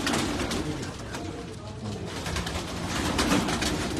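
Banded and crossbred pigeons in a fancier's loft coo softly and repeatedly amid rustling, with faint voices in the background.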